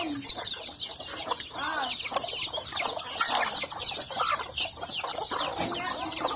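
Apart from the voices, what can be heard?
chickens clucking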